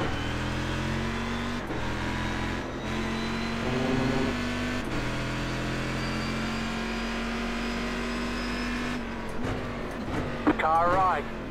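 A Corvette race car in the iRacing sim racing game at Homestead road course drones and shifts through gears, its engine note rising and falling steadily with a brief burst of revving near the end.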